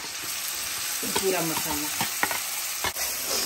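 Cumin with a chopped onion, ginger, garlic and green chili masala fries in a pan for palak paneer, a steady close sizzle with stirring scrapes, and a brief voice speaks over it.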